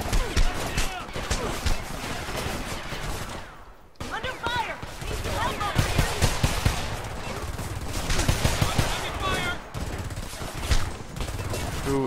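Sustained gunfire in the video game Homefront, bursts of automatic shots and impacts packed densely together, loud and near, with game voices mixed in.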